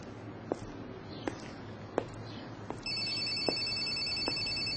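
Telephone ringing as a radio drama sound effect for a Korean audiobook reading: a few sharp rings spaced about a second apart, then a steady electronic tone from about three seconds, clear and alone with no talk.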